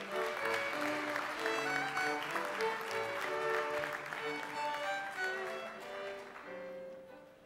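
Sustained applause from the audience at a university commencement ceremony, steady and fairly distant, rising at first and then easing off over several seconds.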